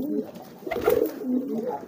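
A pigeon squab coos in low, throaty rolls close by, repeated softly over a busy background with a voice speaking briefly.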